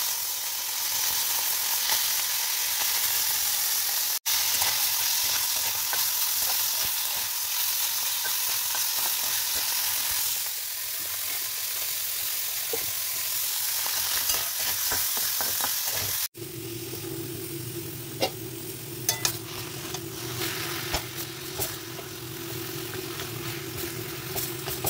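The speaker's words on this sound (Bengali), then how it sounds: "মৌরলা মাছটাকে ভাজি" Small mourola fish frying in a pan, a steady sizzling hiss with stirring clatter. Partway through, a droning hum joins in beneath scattered sharp pops.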